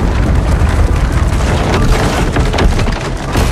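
Ground caving in during a landslide triggered by an ion bomb blast in a ruined-world sci-fi film, a dense, continuous roaring rumble with crumbling bursts, loud and close throughout.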